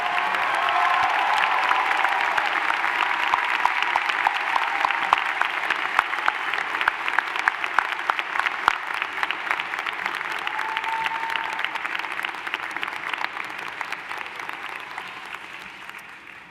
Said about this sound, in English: Please join me in a round of applause for all the awardees.